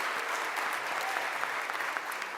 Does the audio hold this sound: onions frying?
no